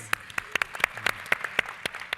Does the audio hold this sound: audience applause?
yes